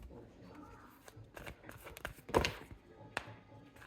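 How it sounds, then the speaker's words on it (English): A deck of cards shuffled by hand in a series of quick, papery riffles and taps, peaking in a louder burst near the middle, with faint background murmur throughout. "Let me shuffle this again."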